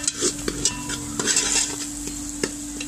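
Chicken fries with salt, chili, curry leaves and masala, a close sizzle under quick metallic spoon clinks and scrapes against the pot, several sharp taps over a few seconds and a low steady hum beneath, with no voices.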